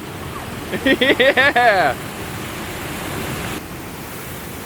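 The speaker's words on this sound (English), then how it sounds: "it has got some green, beautiful water flowing through a really cool, decrepit dam" Green water pours over an old, decrepit broken dam forming a waterfall in the Lehigh Valley, a steady close rushing roar that holds throughout, with a person's voice speaking briefly early on.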